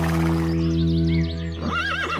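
A horse neighs loudly in a cartoon story, a long whinny with a wavering high pitch, alone and close.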